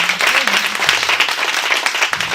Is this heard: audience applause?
yes